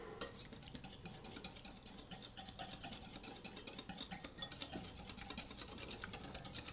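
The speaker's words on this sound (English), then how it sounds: "And you are going to whisk it up." A whisk beating balsamic vinegar, brown sugar and black pepper in a bowl, giving a steady, quick rhythmic scraping and clinking that runs throughout, fairly faint and close, with no talking.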